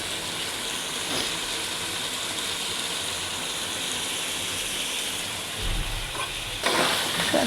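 Chicken pieces with spices and salt frying in a pan for a papaya chicken curry, a steady close sizzle with scraping stir sounds, swelling louder near the end.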